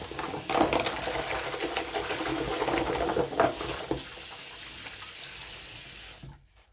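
Tap water runs steadily into a container for several seconds, splashing up close, then cuts off to near silence.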